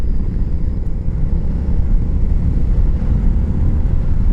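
Royal Enfield Interceptor 650 motorcycle engine pulling hard under acceleration, a loud, steady low rumble with continuous road and wind roar, no voices.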